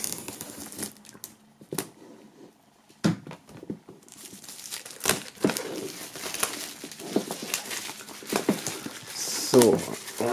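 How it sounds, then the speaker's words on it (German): Plastic shrink-wrap foil being peeled off an album box set, heard as intermittent close crinkling and tearing bursts that grow busier toward the end, with someone talking between the handling noises. "Dann würde ich sagen, machen wir die Folie mal ab und schauen hinein."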